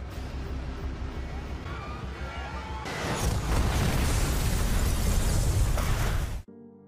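A loud, sustained explosion at a command base roars with a dense rumble and crackling debris, swelling midway and then cutting off abruptly.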